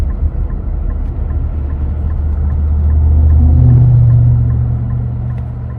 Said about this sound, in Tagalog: Grabe naman ang ingay ng sasakyan na yun.